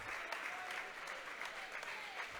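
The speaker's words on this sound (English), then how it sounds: "rousing ovation from the Big Orange crowd" A home crowd at a high school basketball game gives a sustained ovation, with broad, even applause and cheering for the whole moment, heard from some distance.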